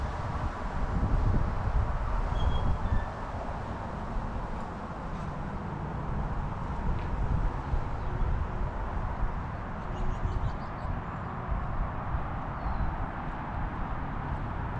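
Steady, broad wind rushes through a courtyard and trees outside a decaying, vandalized shopping mall, a continuous moderate whoosh with faint gusts and no voices.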